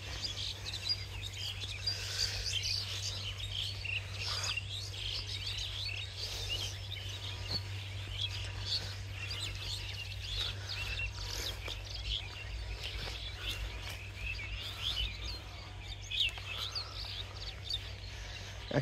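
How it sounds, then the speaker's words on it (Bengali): Birds calling over a harvested rice field in a rural village in Bogura, Bangladesh, where hundreds of pigeons gather to feed on leftover grain; faint scattered chirps over a steady low hum throughout. "এখানে কয়েকশো কবুতর আসছে ধান খাওয়ার জন্য।"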